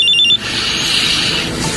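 A mobile phone rings in a Tagalog radio drama: a short electronic trill opens, then gives way to a steady hiss-like tone with no talking.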